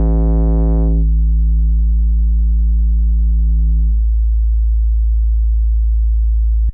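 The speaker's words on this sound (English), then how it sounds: "You can see it's becoming a sine wave as a type of form as I'm going very low with the cutoff on frequency." A Yonac Trooper virtual analog synth holds a loud, steady tone as its low-pass filter cutoff is swept very low, dulling it in two steps toward a pure, smooth sine, then cutting off abruptly.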